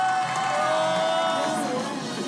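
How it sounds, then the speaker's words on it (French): A crowd at a campsite in Corsica cheers and applauds through a short, steady burst, with a faint voice audible above the noise. "On peut applaudir bien fort Clément"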